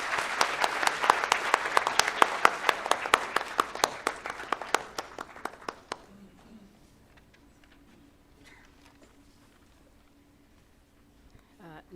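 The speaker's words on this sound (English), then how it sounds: "a big round of applause" Audience applause welcoming the chief guest at an international biotechnology conference: dense, steady clapping for about six seconds, then fading into a quiet hall with faint murmurs.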